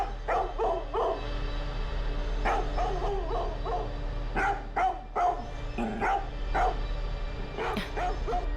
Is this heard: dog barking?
yes